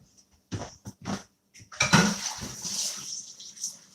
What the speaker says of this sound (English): I got to wash my hands